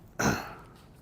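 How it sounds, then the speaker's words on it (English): A single short, throaty cough or throat clearing in a courtroom, one close burst that fades quickly into quiet. "I was coughing."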